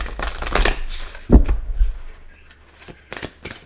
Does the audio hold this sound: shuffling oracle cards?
yes